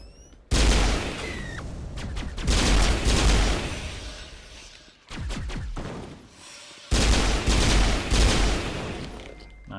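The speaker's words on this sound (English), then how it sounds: "Melting him though with my pistol." Pistol gunfire in Mass Effect Legendary Edition combat, loud sustained volleys of shots broken by brief pauses, with sharp cracks and booming impacts close up.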